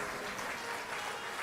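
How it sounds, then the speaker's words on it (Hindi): Dense, continuous clapping comes from a large audience at a Hindu religious discourse, with no voices over it. "ताली और इससे कम बजा के देखना।"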